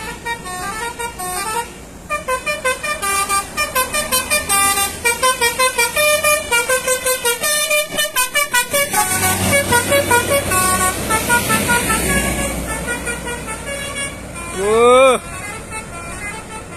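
An ANS intercity bus passes on a road in a long, loud rumbling pass, with rapid repeated horn blasts throughout and a final rising tooting horn near the end.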